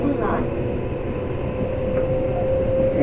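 Tobu 10030 series train running from Kawagoe toward Ikebukuro makes a steady rumble of wheels and motor with a faint sustained whine, heard from inside the car.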